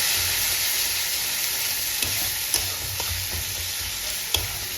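Turmeric and cumin spice mix stirred and fried in a pan for cabbage chorchori, a steady close sizzle with a few sharp scrapes of the spoon against the pan, no voices.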